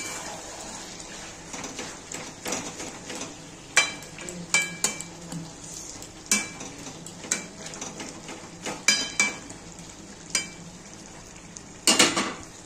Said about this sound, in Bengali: এবারে আলুগুলো দিয়ে দেব আর একটু নেড়ে দিচ্ছি।